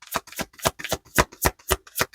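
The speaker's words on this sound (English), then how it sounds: "You guys can always fast forward through the shuffling if you don't like the shuffling part." Tarot cards being shuffled in a steady series of about nine crisp riffling bursts, close up and fairly loud, with no talking.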